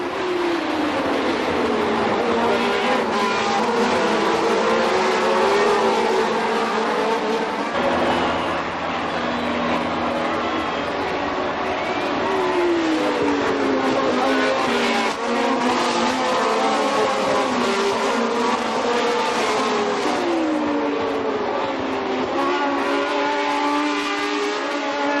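Formula 1 race cars from 1977 racing, Lauda's Ferrari pushing behind Hunt's McLaren: a steady roar of engines with rising and falling pitch sweeps as cars pass and accelerate, continuous and loud, no talk.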